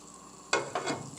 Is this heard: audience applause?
no